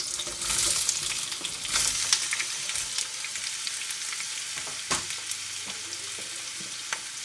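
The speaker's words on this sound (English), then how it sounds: "You want to cook this and get it as caramelised as possible" Chopped onions frying for a curry, cooked toward caramelised, with a constant near sizzle and occasional louder stirring bursts, and no one speaking.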